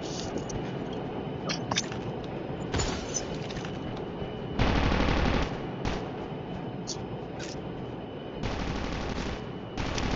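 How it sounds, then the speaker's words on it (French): Machine gun fire in Call of Duty Mobile: sustained automatic bursts, some long and dense, others short, with steady battle noise between them. "On est en train de me tirer dessus, mec."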